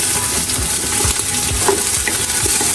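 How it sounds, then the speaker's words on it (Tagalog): Red onion sautéing in a pan for pinakbet, a steady close sizzle with occasional stirring scrapes and clicks, no talk. "Ayan, gisa natin. Ginigisa ho natin yan."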